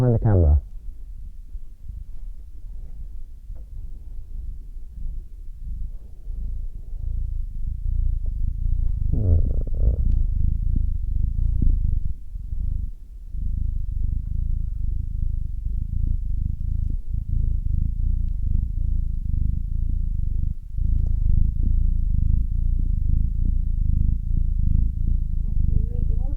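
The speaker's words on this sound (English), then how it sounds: "Did you hear that purr, everyone?" A kitten purrs in steady low rumbling pulses close to the microphone, continuous throughout, while people talk softly nearby.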